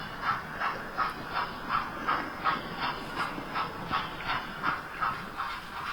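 A model steam locomotive runs along the track, giving a steady, regular clickety-clack rhythm of evenly spaced beats over a constant mechanical hiss, heard fairly close with no voices.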